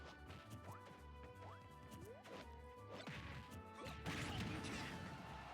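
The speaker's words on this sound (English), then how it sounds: "Deku nut that almost, that breaks his shield." A sharp smash as a shield breaks in a Super Smash Bros match, a loud crack rising over busy game effects and quieter whooshes, with no talk over it.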